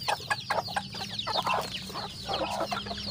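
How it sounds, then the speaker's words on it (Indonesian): Chickens clucking in a coop, a busy overlapping chorus of short clucks and squawks close by, with a faint steady hum underneath. "ayam saya udah semakin bertambah"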